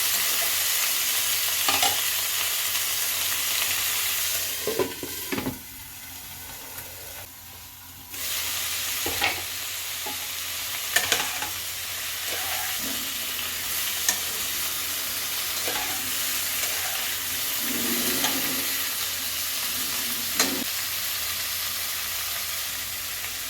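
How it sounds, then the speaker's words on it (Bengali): Pabda fish and vegetables fry in a covered pan on low gas, giving a continuous sizzle with repeated stirring knocks and scrapes and a brief quieter pause partway through. "গ্যাসটা সিম করে ঢাকা চাপা দিয়ে আমি ভালো করে ভাজা করে নিচ্ছি"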